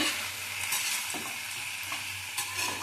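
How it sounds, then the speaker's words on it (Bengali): Chicken pieces fry in oil for green chilli chicken, with a steady moderate sizzle and repeated scraping stir strokes close by. "আমি এখন চিকেনগুলো এর মধ্যে দিয়ে দেবো। ভালো করে মিশিয়ে নেব।"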